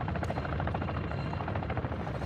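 A helicopter comes in for extraction in Call of Duty, its steady thudding rotor chop close and continuous throughout.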